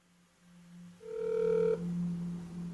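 A telephone rings on an outgoing call, a faint tone heard through the line, starting partway in and then shifting to a lower steady ringback tone over quiet background hiss, with no voices.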